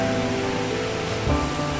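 Heavy rain pouring down outdoors in a rural setting, a loud dense continuous hiss with a low rumble, steady throughout with a slight surge near the end.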